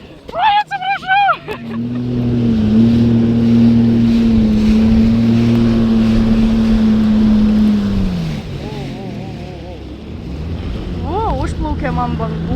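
A motorboat off Patong, Thailand, crossing waves: a loud, steady engine drone holds for about seven seconds, then eases off, with voices and splashing water before and after.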